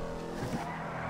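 Classic Inverto Coquette in a video game, its engine droning steadily while tires briefly skid and squeal midway through, loud and close with no talking.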